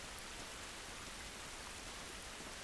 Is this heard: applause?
no